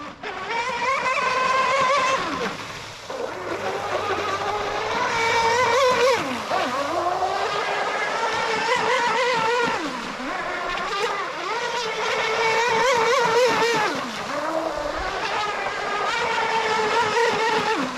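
A Proboat Mystic 29 RC boat with a brushless motor and carbon fiber upgrades runs a full-speed pass, a loud, high-pitched whine that rises and dips as it turns across the water, holding strong throughout.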